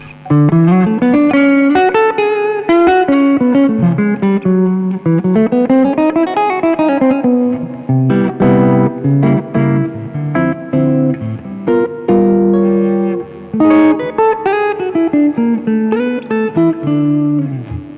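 A clean electric Gibson guitar with two P90 pickups plays a jazzy melodic line with chords, close and loud, with a touch of reverb and no voices.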